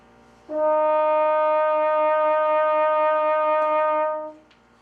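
A single long trombone note held for nearly four seconds, steady and full, with a subtle pitch wobble from vibrato made by moving the jaw up and down, played solo at close range.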